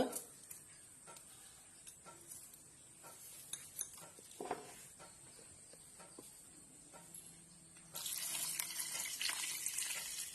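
Water pours into a cooking pot holding mutton leg soup ingredients (onion, curry leaves, coriander, crushed garlic, tomato, salt). Quiet clinks and handling come first, then a steady, fairly loud splashing stream runs through the last couple of seconds.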